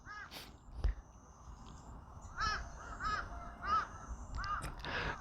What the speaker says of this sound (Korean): 까마귀가 날아가네요.